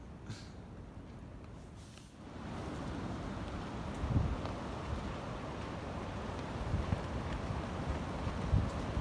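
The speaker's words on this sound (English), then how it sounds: "wind's picking up again" Wind gusting around an exposed campsite, a steady rushing roar that swells after a quieter opening couple of seconds, with occasional buffeting thumps against the microphone.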